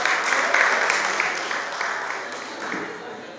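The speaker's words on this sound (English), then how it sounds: "Can we please give Adonai a round of applause?" A round of applause from an audience at a Yoruba Day 2018 community event, a steady dense wash of clapping that fades slightly over a few seconds, with some voices mixed in.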